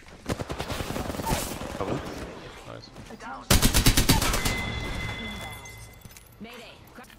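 Rapid bursts of gunfire in the video game Apex Legends rattle loudly, with a heavier volley midway, while a person talks over the shooting.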